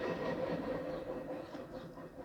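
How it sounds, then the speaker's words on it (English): A train rumbles past at a distance in a steady, continuous low roar that fades slightly toward the end, with no voices. "I really think those trains are testing my patience today."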